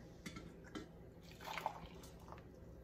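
Half a cup of water poured into a container while making vegan garlic and herb cheese with coconut milk, faint and quiet trickling with a few small splashes and drips.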